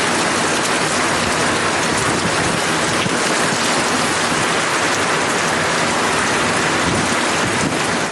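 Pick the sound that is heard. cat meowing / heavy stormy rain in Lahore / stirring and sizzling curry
heavy stormy rain in Lahore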